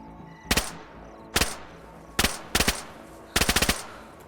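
Gunfire in the video game DayZ as a player is killed: several sharp, loud bursts of automatic shots in quick groups, separated by short pauses with quiet ambience between.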